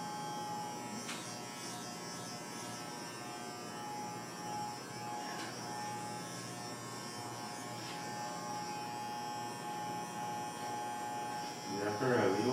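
Electric hair clippers buzz steadily while cutting hair for 360 waves, a continuous close hum running the whole time, with voices briefly audible near the end.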